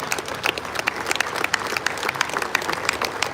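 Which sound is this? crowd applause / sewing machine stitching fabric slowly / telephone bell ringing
crowd applause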